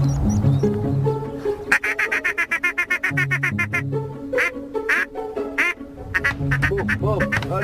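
Ducks quack repeatedly during a hunt on the Canche bay, a long run of rhythmic nasal calls from several birds, loud and close, with a teal among them and hunters murmuring now and then.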